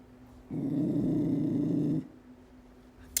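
A dog growls in one sustained, deep, rumbling snarl lasting about a second and a half. It is close and fairly loud, with no voices over it, and quiet surrounds it on both sides.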